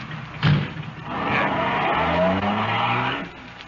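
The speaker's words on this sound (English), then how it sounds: "Here's the car. Let's go." A car in an old radio drama starts and pulls away, its engine revving and rising steadily with a tire squeal, loud and close, no talk.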